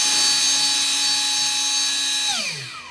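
A 2212 1500 brushless RC motor spins a propeller on a thrust test stand, a loud, steady high-pitched whine that holds, then drops in pitch and fades as the motor spools down.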